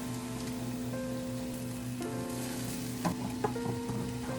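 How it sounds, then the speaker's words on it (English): Kale cooking down in a pan gives a steady, even sizzle throughout, with a constant low hum beneath and a few brief clinks near the end; no one speaks. "Letting the kale cook down a little bit."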